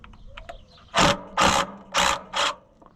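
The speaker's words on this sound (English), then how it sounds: "The mini impact just gives." Mini impact wrench with a short socket loosening a brass fastener on a scrapyard Oliver Super 77 tractor: four close, loud rattling bursts, each about a third of a second, in quick succession after a brief quiet lead-in.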